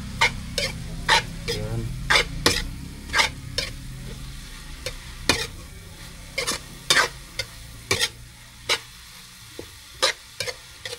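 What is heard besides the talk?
stirring food frying in a pan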